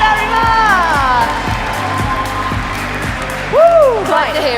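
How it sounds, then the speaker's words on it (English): An audience at a FIRST Lego League UK national event cheers and whoops for a winner named Clive, a loud crowd roar with shouts and rising whistles over steady beats of a music track, voices calling out throughout. "Big cheer for Clive!"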